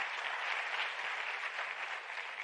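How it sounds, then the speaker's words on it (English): A closing plenary audience at a science forum in South Africa claps steadily, a dense even wash of applause with no pauses, moderately loud throughout. "can you give him a round of applause"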